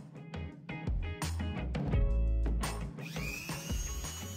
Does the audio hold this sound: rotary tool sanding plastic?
yes